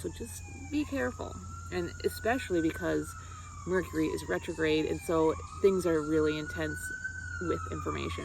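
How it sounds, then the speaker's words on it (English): Emergency vehicle siren wailing on a city street in Madison, a long rising and falling tone in the background beneath someone talking steadily over it. "Pardon the siren again. Must be a busy day on the streets of Madison"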